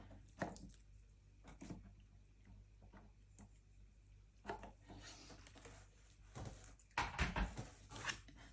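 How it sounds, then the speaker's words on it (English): Water trickles and dribbles onto a small tin seed grow kit, giving soft scattered drips and wet squishy taps with a few louder splashes near the end, all close and quiet. "A little bit more water on there."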